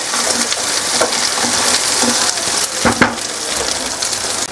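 Ground onion and tomato paste going into a hot pan with browned fennel seeds for palak paneer, giving a loud, steady sizzle and crackle with a few sharper spatters and stirring scrapes.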